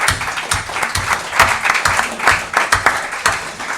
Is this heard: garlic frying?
no